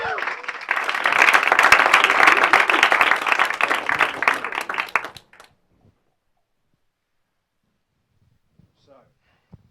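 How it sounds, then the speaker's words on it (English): Loud applause from a crowd, steady for about five seconds, then cutting off into near silence. "Big round of applause here."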